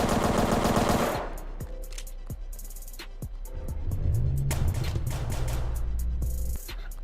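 Rapid automatic gunfire bursts and single shots ring out in a Roblox Street Life Remastered shootout, loud bursts at the start and later, with a car engine hum in between.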